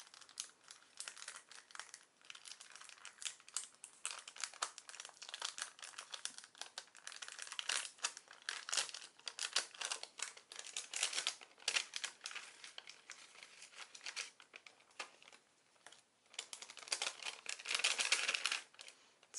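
A vellum bag of goodies from a snail mail package is handled and opened up close, giving a long run of crisp, papery crinkling and rustling that swells louder toward the end.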